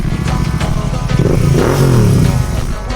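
A Royal Enfield Continental GT fitted with a Duster exhaust idles loud and close at a bike shop, its thumping engine note rising briefly as the throttle is blipped.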